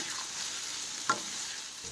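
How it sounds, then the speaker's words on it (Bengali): Carrots fry in white oil in a pan, giving a soft, steady sizzle with a brief stirring scrape partway through, fairly quiet and with no talking. "আর এই যে এখন দিয়ে দিলাম সাদা তেলের মধ্যে গাজর"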